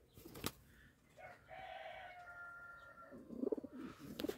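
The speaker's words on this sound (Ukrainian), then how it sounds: "ось такі, ось голуби." Faint show pigeons of a Czech breed coo softly nearby in low, throaty bursts, with a quiet background hum and a brief knock early on.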